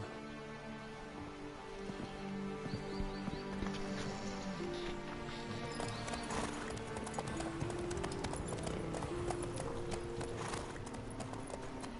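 A horse gallops in The Witcher 3, steady rapid hoofbeats running throughout alongside game ambience, with no talking.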